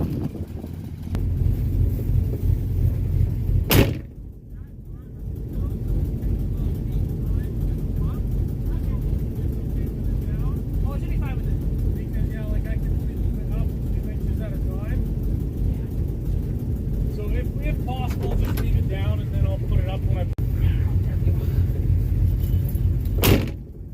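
A 1967 Dodge Charger with a 383 big block V8 idles while warming up, a steady low rumble throughout with a brief dip near the start, and a person talks over the engine.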